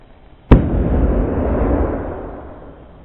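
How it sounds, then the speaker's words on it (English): A single sharp, loud bang as a hydrogen-filled balloon ignites after a brief quiet, followed by a deep rumbling roar that slowly fades away. "I'm now going to ignite the balloons."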